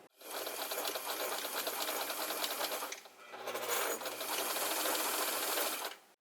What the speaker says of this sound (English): So the sewing machine gave up a little bit on us.